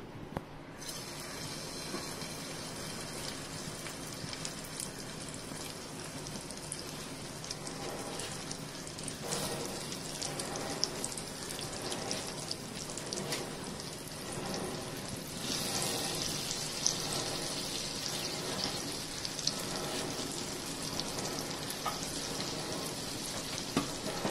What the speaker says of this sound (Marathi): हे फिशचे तुकडे रव्यामध्ये तिखट, मीठ, हळद, जिरं हे घालून घेतले आहे आणि त्यात आपण ते घोळून घेऊन तव्यावर टाकणार आहोत